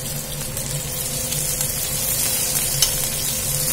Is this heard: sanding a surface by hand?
no